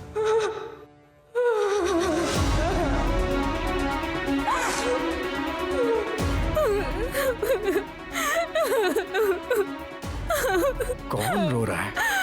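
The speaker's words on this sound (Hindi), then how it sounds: "ये तो किसी की रोने की आवाज है।" Someone weeps in a house, with drawn-out sobbing and wailing cries that rise and fall over about twelve seconds, mixed with background sound from a television drama scene.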